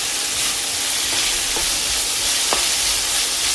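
Ginger and green chillies fry in a pan for a chicken curry, giving a steady, close sizzling hiss with a few faint stirring scrapes.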